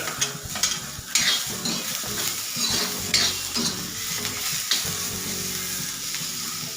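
Ginger and garlic fry with browning onions in a pan for a Malvani-style egg curry, a loud steady sizzle broken by repeated stirring and scraping of a utensil against the pan, close up and with no talking.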